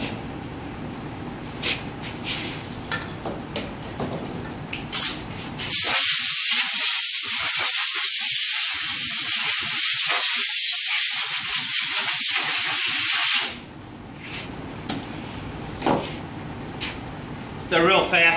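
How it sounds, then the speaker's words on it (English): A steady broadband spray gun hiss lays black lacquer coats on a Zenith 6S27 radio cabinet being refinished, loud and continuous for several seconds, with talk before and after. "right now we're gonna start with a few coats of black lacquer on here after it's been sealed"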